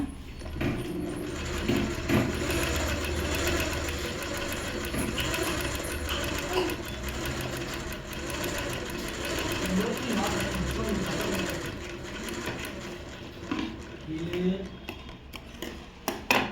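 Sewing machine stitching a zigzag seam along a fabric edge in an overlock-style finish, a steady close mechanical whirr running nearly throughout with rattling clicks, then stopping and starting near the end, under occasional talk.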